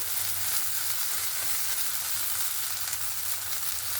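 A healthy breakfast snack fries in a little oil in a pan, giving a steady, close sizzle that carries evenly from start to finish with no talking.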